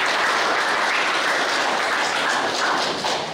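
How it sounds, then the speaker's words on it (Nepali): A crowd at a taekwondo equipment handover event claps loudly and continuously, a dense, even roar of hands that holds steady throughout. "यहाँ सबैजनालाई ताली लगाएर स्वागत गर्छु।"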